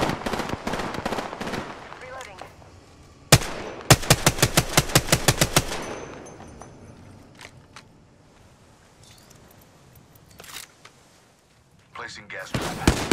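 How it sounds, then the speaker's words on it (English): Automatic weapons fire in Apex Legends arrives in rapid bursts, including a sharp rattling volley, amid explosions and game effects, with voices speaking over parts of the action. "Getting shot at."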